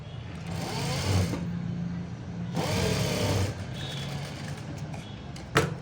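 A sewing machine stitching the folded edge of a blouse, running in a close, steady mechanical whir with two louder bursts of faster stitching and a brief click at the end, no talk.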